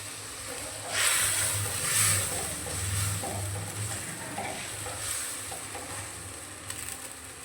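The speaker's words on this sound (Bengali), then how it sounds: "এরপর হাই ফ্লেমে দিয়ে এটা একটু নাড়াচাড়া করে নেব যাতে মশলার কাঁচা গন্ধটা চলে যায়।" Spice paste for a fish egg curry stirred over a high flame, a soft hissing sizzle with a few louder bursts and low rumbling stove noise, fairly quiet and continuous.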